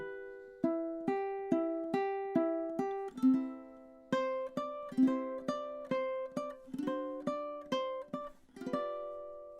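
A ukulele picks out a melody of bright, evenly spaced notes and chords, each ringing briefly before the next, played solo without voices.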